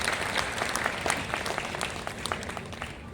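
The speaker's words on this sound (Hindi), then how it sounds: "एक बार तालियां बजे" An audience at a Hindi poetry recital claps in a dense burst of applause, steady and fairly close, fading slightly toward the end.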